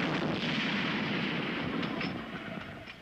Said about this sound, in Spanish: Eso es shrapnel. Granadas con metralla.